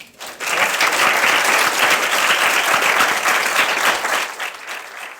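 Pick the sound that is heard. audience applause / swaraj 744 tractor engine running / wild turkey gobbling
audience applause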